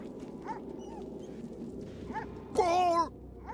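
A dog in the video game Divinity: Original Sin 2 lets out a loud, high, excited whine-bark near the end, after a few faint yips under quiet game ambience.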